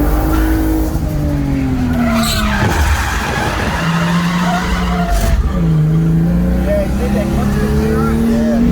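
A Lexus drifts around a track with long, loud tire squeal and a revving engine that rises and falls, the screeching sweeping in pitch as the car slides, close and continuous.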